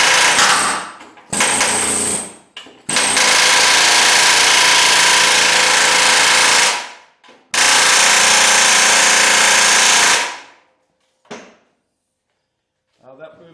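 A hammer and chisel work loose a trailing arm bolt on a 1976 Corvette, heard as loud, harsh bursts of hammering lasting several seconds each, separated by short pauses.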